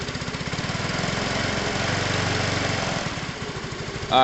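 A small motorcycle or moped engine with a charging fault running steadily at idle, a close, rhythmic putter that continues evenly for several seconds.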